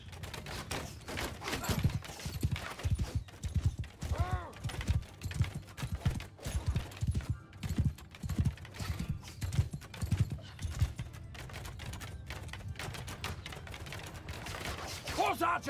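Horse hooves thud in fast, uneven clusters during a medieval cavalry battle in Mount & Blade II: Bannerlord, mixed with clattering combat and occasional whinnies, under shouted battle cries.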